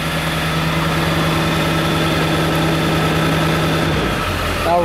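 A 7.3 Powerstroke diesel engine with 300,000 miles holding a 1200 rpm high idle, a steady close droning rumble that shifts down in pitch near the end.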